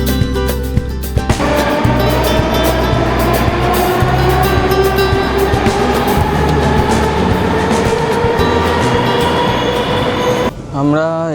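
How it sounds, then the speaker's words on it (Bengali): Moscow metro train pulling into a station underground, loud sustained rumble and rising wheel whine filling the space for about ten seconds before braking quiets near the end. "আমরা এসে নামলাম ক্রুজকায়া মেট্রো স্টেশনে।"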